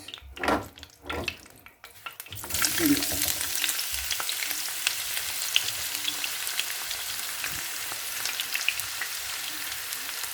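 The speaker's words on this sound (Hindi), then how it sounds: "प्याज को मैंने ऐड कर दिया है और इसको करते हैं हम अच्छे से मिक्स" Onions hit hot oil in the pan where okra was fried, bursting into a loud, steady sizzle after a couple of seconds of handling noise, with stirring scrapes throughout.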